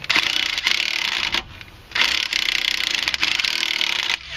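Bolt on a 2001-2006 Hyundai Santa Fe front strut being worked back and forth with a ratchet, giving loud, close bursts of rapid clicking separated by brief pauses.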